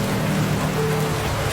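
Steady rain falls in a continuous, even hiss that holds at a constant loudness throughout, close and enveloping, with no voices or other distinct sounds over it.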